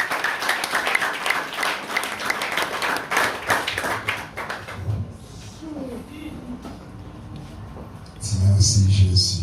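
A church congregation claps in dense, rapid applause, loud and continuous for several seconds before thinning into scattered sounds and quieter murmurs, then swelling again briefly at the end.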